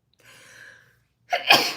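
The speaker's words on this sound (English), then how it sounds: "I'm gonna sneeze." A quiet breathy inhale builds up, then a single loud, close sneeze bursts out at the end.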